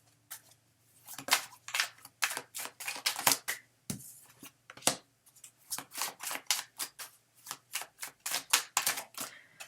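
Tarot cards being shuffled during a reading, a quick irregular run of crisp riffling snaps and flicks, close and fairly quiet, with no talking.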